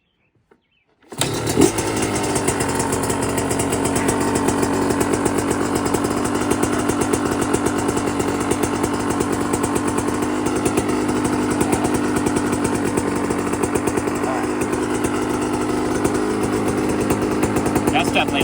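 A dirt bike fitted with an FMF pipe and silencer kicks to life after a moment of silence, then runs loud and steady with a rough, raspy exhaust note and slight revving, close by for the rest of the clip.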